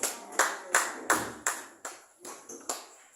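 A church congregation applauding during a worship service, about eight separate claps or short bursts spaced evenly, each sharp and quickly fading, fairly close.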